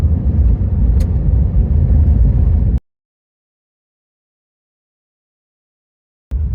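A car driving on a rough dirt road toward Ione, Nevada, a loud, close, steady low rumble of engine and tires that cuts to silence for several seconds before returning.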